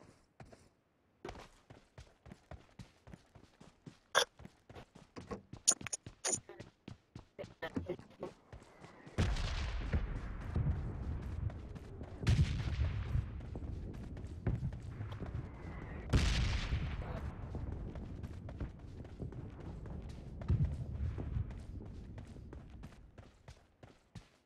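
Gunfire erupts in the video game PUBG, starting with rapid trains of sharp single shots and footsteps, then several heavy booming blasts that roll into sustained, echoing reverberation.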